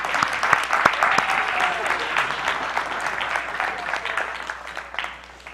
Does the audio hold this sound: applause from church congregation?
yes